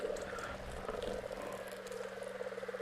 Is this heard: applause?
no